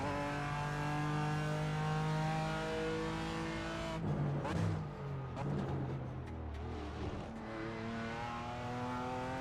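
A GT4 race car in the iRacing sim climbs in pitch, drops abruptly through a gear change, then rises again, with brief tire noise around the shift. The whirring engine note stays fairly quiet throughout, with no talk.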